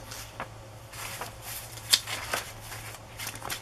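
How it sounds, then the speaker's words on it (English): Wrapping paper from a scrapbooking kit being handled and shifted, giving soft intermittent rustles and crinkles with one sharper crackle midway, close to the listener and without speech. "Another piece of wrapping paper"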